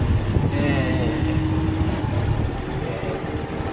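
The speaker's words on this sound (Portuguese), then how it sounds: "Olha o tratorzinho aí." A Massey Ferguson 292 tractor engine runs steadily in an open field, a continuous low rumble mixed with wind noise on the microphone.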